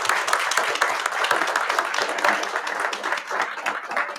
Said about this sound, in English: Can we give them a round of applause here?